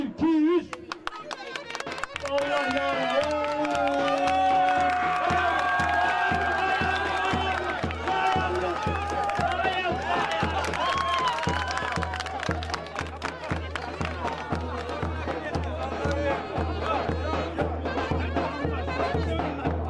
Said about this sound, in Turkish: Evet, alkış tempo.